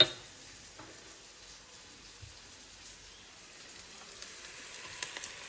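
Onions and curry leaves frying in a pan for egg fried rice give a soft, steady crackling sizzle, faint and even, growing slightly busier toward the end.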